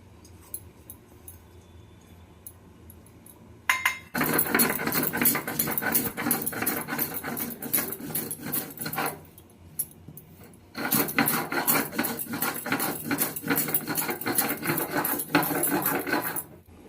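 Dried chillies, green chillies, poppy seeds and black mustard are ground together for a bottle gourd leaf chorchori, giving two long bursts of loud, harsh whirring grinding separated by a brief pause, with no talk.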